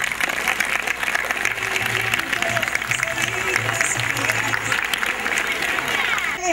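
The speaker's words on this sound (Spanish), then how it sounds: "vamos a recibir con un fuerte aplauso a las banderas de ceremonia" A school audience gives strong applause as ceremonial flags are brought in at a commemorative ceremony for General San Martín. The dense clapping stays steady and full throughout, with a faint low murmur underneath.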